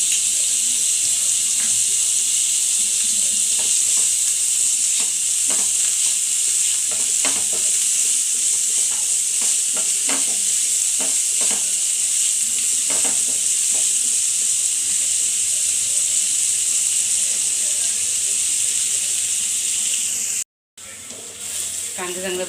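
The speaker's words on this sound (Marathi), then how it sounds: "कांदा चांगला ब्राऊन पण परतायचं।" Chopped onion, curry leaves and green chilli sizzle steadily in hot oil in a pan, with a constant bright frying hiss and occasional stirring scrapes, close up and continuous, cutting out briefly near the end.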